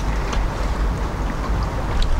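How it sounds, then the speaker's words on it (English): Loud, blustery wind buffets the microphone outdoors, a constant rushing roar with occasional gusts and no speech. "A bit windy though"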